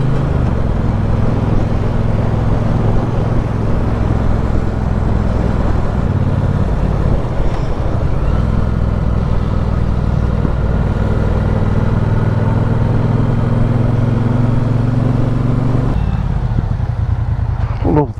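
A motorcycle engine and exhaust pipes drone steadily and loudly while riding a damp road over Clee Hill, the engine note shifting slightly midway and changing again near the end.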